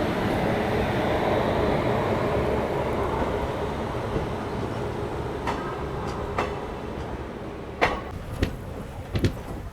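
A Trichy–Trivandrum Intercity passenger train rumbles steadily along the rails approaching Poonkudi station with a constant low roar, joined near the end by a few sharp metallic clanks and rattles.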